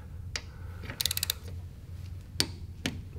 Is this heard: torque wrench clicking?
yes